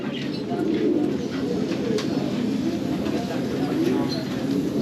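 Caged pigeons and other birds at a Kabul bird market coo continuously in low, rolling calls, with scattered chirps over a busy background murmur of people talking nearby.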